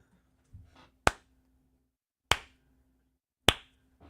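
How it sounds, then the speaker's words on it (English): Three sharp, isolated hand claps spaced about a second apart in a quiet room during a live-stream audio sync check, each a crisp close-up crack followed by near silence. "Give us one clap"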